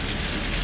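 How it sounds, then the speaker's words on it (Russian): Heavy rain pours outdoors during a storm, a dense, steady hiss that stays close and loud for the whole moment with no voices over it. "просто льет дождь"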